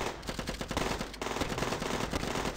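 Rapid, continuous automatic gunfire from defense turrets mowing down zombies in the Zombie Defense video game, a dense loud rattle of shots with no pauses.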